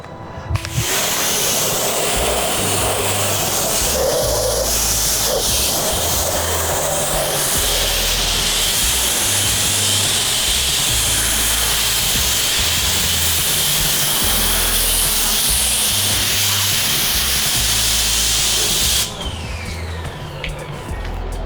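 A pressurized sprayer mists decon shampoo while detailing a 1993 Nissan 240SX, giving a loud, continuous hiss over a pulsing low hum, cutting off abruptly near the end.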